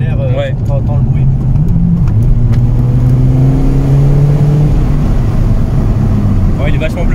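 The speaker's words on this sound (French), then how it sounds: "Tu ouvres à peine une fenêtre, t'accélères, t'entends le bruit." A tuned Seat Ibiza 6L accelerating with a window open, heard from inside the car: a loud, steady engine drone rises in pitch throughout, with people talking over it.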